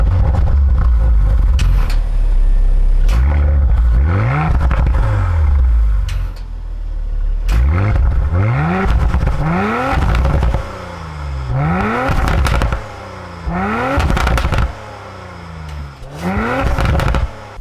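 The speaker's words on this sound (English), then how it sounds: "you guys didn't think I was just gonna get in the car and drive without letting you hear some exhaust" An Audi RS5 B9 with its mid mufflers deleted is revved repeatedly from a microphone on the ground near the exhaust, each loud rising blip falling back to a crackling idle.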